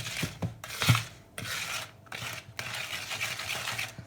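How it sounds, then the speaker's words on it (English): Brown sugar pie filling is whisked by hand in a bowl, making rhythmic swishing, scraping strokes in bursts with short pauses and a few light taps against the bowl, close and moderately quiet. "Hand whisk. You just want to incorporate it all nicely."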